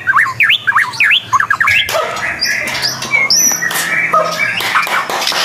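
A white-rumped shama sings loud, varied whistled phrases close by, with rapid chirps and squawks mixed in and some background clatter.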